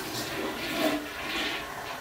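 A toilet flushes and keeps rushing, a steady loud wash of water that swells and fades without draining away.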